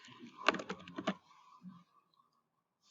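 A short burst of clicky keystrokes on a computer keyboard, close and crisp, followed by a pause and a single tap.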